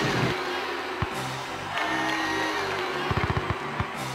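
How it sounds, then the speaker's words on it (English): Bomb blasts in the Banjo-Tooie kickball tournament, a burst of several sharp, punchy bangs late on over busy game music and crowd cheering. "It's a bomb!"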